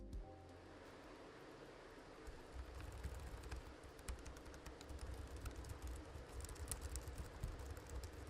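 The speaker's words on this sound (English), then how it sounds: "A typical membrane keyboard" Soft, rapid typing on a membrane keyboard, a steady patter of muffled key presses at close range with faint background hiss.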